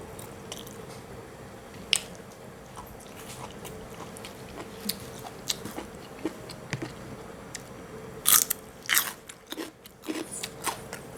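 Someone eating a meal of steamed tilapia and rice chews close to the mic with soft, steady wet mouth noises, broken by occasional sharper crunchy bites and a louder cluster of them near the end.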